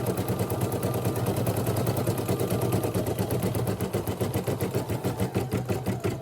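Sewing machine stitching a shirt with heat transfer vinyl on it: a steady, fast mechanical whir with rapid rhythmic needle ticks that grow more distinct toward the end, close and continuous with no talk.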